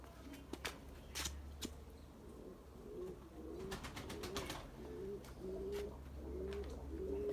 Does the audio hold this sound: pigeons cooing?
yes